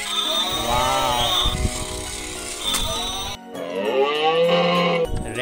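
A large battery-operated toy cow gives two long, loud electronic moos with a wavering, sliding pitch, separated by a brief gap.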